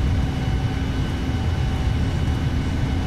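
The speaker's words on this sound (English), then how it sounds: "Oh man, the engines sound incredible" Boeing 787 jet engines roar steadily during a takeoff roll down the runway in a flight simulator, a loud, dense, unbroken rumble with faint tonal whine and no talking.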